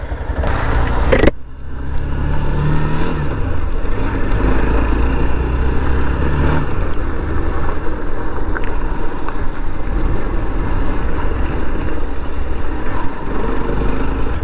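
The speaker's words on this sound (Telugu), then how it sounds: "ఇది వచ్చేసి ఈ బైక్ ఎగ్జాస్ట్ నోట్ అనమాట" A 2021 Hero Xtreme 160R BS6 motorcycle runs with a steady, close engine and exhaust drone. A sharp burst of noise comes near the start, and the hum then carries on evenly.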